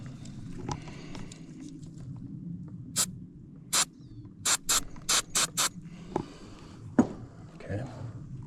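Wrench working loose a car battery terminal on a Maverick 4x4, a quick series of sharp metallic ratchet clicks in short close bursts over low background rumble.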